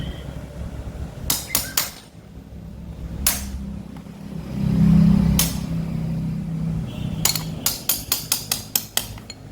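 An old lithium battery pack is tapped to loosen its cells, giving sharp knocks in small clusters and then a quick run of evenly spaced taps near the end, heard over a low steady hum.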